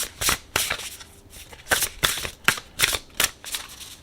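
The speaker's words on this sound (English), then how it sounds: "So we're going to shuffle" Oracle cards being shuffled in quick riffling bursts, about a dozen short crisp flutters in an irregular rhythm, close and clear with no voices.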